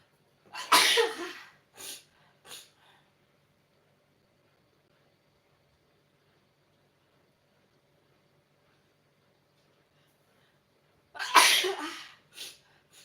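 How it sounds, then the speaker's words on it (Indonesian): A person with the flu sneezes loudly and close by, once and again, with a couple of smaller follow-up sneezes, then long quiet before another hard sneeze near the end. "Maaf ya teman-teman, lagi flu. Bersin-bersin."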